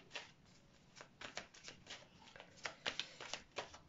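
A deck of tarot cards is shuffled by hand close up, making a run of soft riffling flutters and slaps in irregular bursts, fairly quiet, with no talking.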